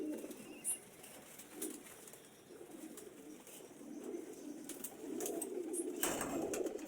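Pigeons coo softly in a low, repeated burbling, with a few faint chirps and rustles in the background.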